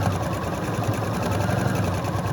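A sewing machine stitches a quarter-inch seam across a quilt block, a steady, fast mechanical whirr running continuously at close range.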